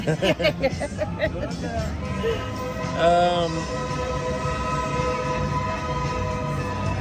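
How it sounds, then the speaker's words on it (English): A light rail tram in Jerusalem rumbles past amid background crowd chatter, with a brief horn-like tone in the middle; moderately distant. "So that's the tram going by,"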